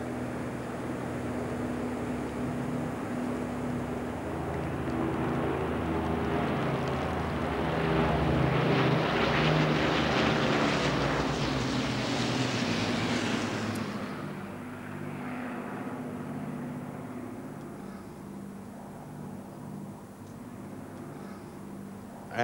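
A vintage propeller aircraft in a Battle of Britain flypast drones overhead, its engine roar swelling to a peak as it passes and then fading away into the distance.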